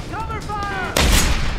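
Gunfire erupts in the Deus Ex: Human Revolution game, a sudden loud blast of shots that follows shouted voices and rings on to the end of the short moment.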